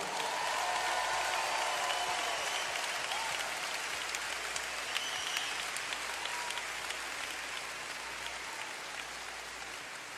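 A large church assembly applauds the re-elected General Superintendent, David K. Bernard, at a general conference service: dense, steady clapping from a big crowd, heard alone at a moderate, distant level and fading slightly toward the end.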